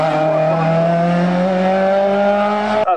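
A historic race car launches up the Bagnols Sabran hill climb, its engine holding a loud, steady harmonic howl for nearly three seconds before cutting off abruptly near the end.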